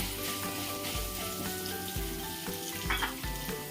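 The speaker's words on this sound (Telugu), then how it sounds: "కొంచెం ఎండుమిరపకాయలు పచ్చిమిరపకాయలు ఆవాలి కొంచెం ఎక్కువ వేసుకుని ఫ్రై చేసుకుంటే బాగుంటుంది" A tempering of dried red chillies, green chillies and mustard seeds fries in hot oil, a continuous close crackling sizzle like light rain, with faint steady tones in the background.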